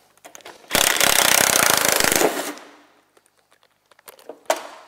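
A pneumatic air ratchet whirs and rattles loudly for about two seconds while removing a bolt from a Ski-Doo Elan snowmobile, then stops, followed by faint clicks and clinks of metal.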